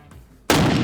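A single loud AK-50 rifle shot bursts out after a quiet half-second lead-in, a sharp close blast that hangs on without decaying by the end.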